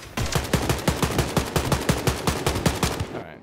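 Rapid automatic gunfire in the shooter game Wolfenstein: Youngblood, a steady stream of roughly twenty sharp, evenly spaced shots over about three seconds, loud and close, with no talking over it.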